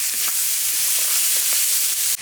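Chopped onions and cumin sizzle steadily in a hot pan, a constant hiss close by with soft scrapes of stirring, and no voices.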